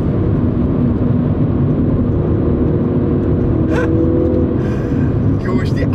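A Mini JCW GP3 revving to nearly 6,500 rpm while driven fast on a narrow road, a loud, constant engine drone heard from inside the car, with brief higher noises near the end.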